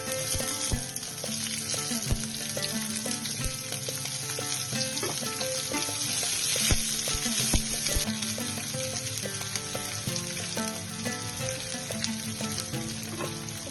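Onions sizzle and crackle steadily in a hot frying pan, with occasional stirring scrapes and taps over the continuous frying hiss throughout.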